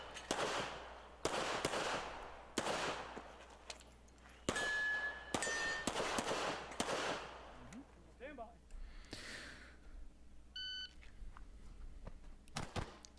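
Gunshots on a short 12-round practical shooting match stage: a series of sharp, loud reports spaced about a second apart, with softer ringing hits and some faint talk between shots.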